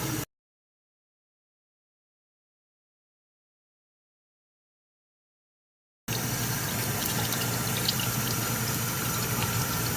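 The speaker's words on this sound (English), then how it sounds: "Now we're going to rinse off the cauliflower." Tap water runs steadily over cauliflower being rinsed in a kitchen, a brief splash at the start, then silence, then a loud continuous gush of water for the last few seconds, no talking.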